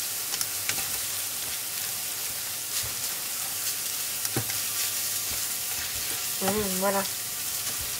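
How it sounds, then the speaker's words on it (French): Turkey escalopes sizzle on a grill with a steady hissing crackle and scattered pops throughout; a brief spoken word comes near the end. "comme ça j'ai mis à griller les escalopes"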